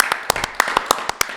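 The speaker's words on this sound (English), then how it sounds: "Clap it up for Brother Lou one time." A small audience claps for Brother Lou at a wellness talk, scattered hand claps in a loose, uneven rhythm, close and fairly loud, with some voice mixed in.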